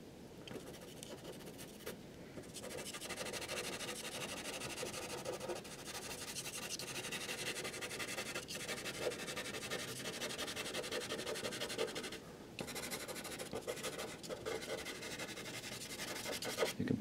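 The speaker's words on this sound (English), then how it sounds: "You can probably hear the grittiness of the paper as I scratch across it with this pencil." A pastel pencil scratches across gritty pastel paper while a quick landscape sky is laid in, giving a continuous dry, rasping rub with short pauses between strokes, close and fairly quiet.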